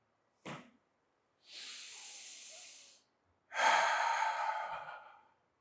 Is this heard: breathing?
yes